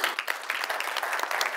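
Audience clapping fills the hall at the Winter Convenience Forum 2018 trade event: dense, steady applause from many hands, fairly loud and continuous with no voices over it.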